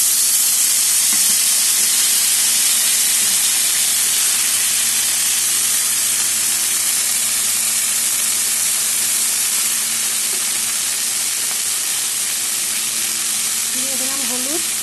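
Chopped red amaranth leaves and green chilies hit a hot pan with sesame, dry red chili and black cumin, giving a dense, continuous hiss of frying that stays loud and even from start to finish, with faint voice-like sounds near the end.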